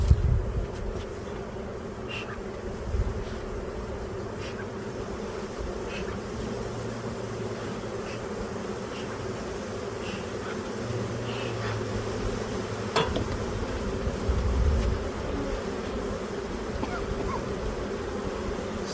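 Honey bees buzz around a hive being split outdoors, a steady swarm drone with individual bees flying close past now and then, a few knocks against equipment audible.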